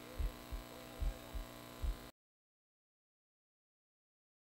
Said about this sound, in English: Try to find a herb so I don't have to hear this annoying heartbeat.